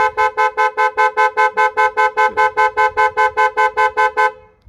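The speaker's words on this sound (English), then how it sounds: "There you go, alarm is now triggering." A Bentley Bentayga's car alarm blares in a fast, steady series of about twenty loud, evenly spaced electronic honks, then cuts off abruptly.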